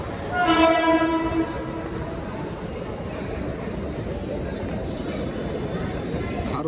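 A train horn sounds once near the start, followed by the steady low rumble and rattle of rail cars rolling past close by.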